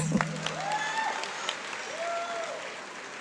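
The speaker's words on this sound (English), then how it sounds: "So give her a round of applause for that." Audience applause at a high school graduation ceremony, moderate steady clapping from the crowd, somewhat distant, with a few brief voices and sounds over it.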